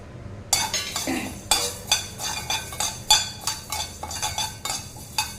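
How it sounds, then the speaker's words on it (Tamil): Urad dal is stirred while dry-roasting in a pan for a spice powder, giving repeated rhythmic scrapes and metallic clinks of a spoon against the pan at close range, with no voices. "அடுத்து வந்து இருபத்தஞ்சி கிராம் உளுந்து எடுத்துருக்கேங்க சேர்த்திக்கலாம்"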